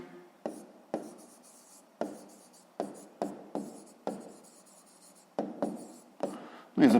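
A pen or chalk writes numbers in short, separate strokes, each a distinct scratchy tap with brief pauses in between, close and clear with no talk.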